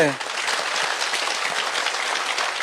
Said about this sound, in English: A resounding round of applause as he is being seated now